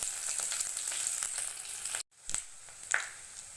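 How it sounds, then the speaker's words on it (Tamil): Chili peppers and sliced garlic frying in oil for lemon rice, a soft steady sizzle with light crackles, a short gap, then spattering picks up again. "மிளகா ஆட் பண்ணி கொஞ்சம் நேரம் பொரிய விடுங்க"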